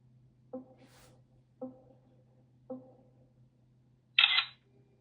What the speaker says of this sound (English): To take a selfie, which rotates the lens to a preset angle, and take a photo